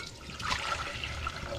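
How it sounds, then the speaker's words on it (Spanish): Water being poured into a cooking pot for pumpkin locro, a short gurgling splash and trickle, fairly close and moderately quiet with no talk. "Vamos a echar un poco de agua nomás."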